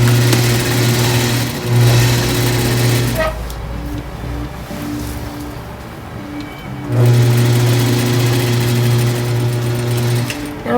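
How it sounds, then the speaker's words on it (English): A sewing machine stitching a row beside boning on a corset, a loud close steady whir in two long runs separated by a quieter pause. "going to do another row of stitches right beside it"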